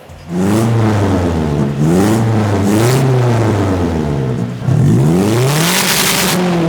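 A 2022 Toyota Hiace van engine with an open cutoff exhaust revs loud and raspy repeatedly, rising and falling in pitch with a deep throaty exhaust roar, close up.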